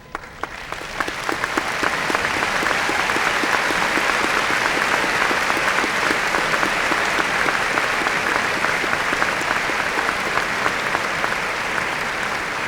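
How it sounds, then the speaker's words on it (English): Audience applause at a 1998 high school graduation in Russellville, a large crowd clapping steadily and densely for several seconds after a brief ragged start, sustained and even throughout. "for us to give them a good round of applause"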